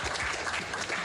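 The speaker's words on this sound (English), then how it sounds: "I apologize for the lack of different applause sounds." Canned applause sound effect: a steady wash of many hands clapping, fairly loud and even throughout a short burst, with no voices.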